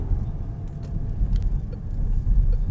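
A car rolls slowly along, about to pull into a narrow parking space, with a steady low engine and road rumble heard from inside the cabin throughout, fairly loud and constant, no talking.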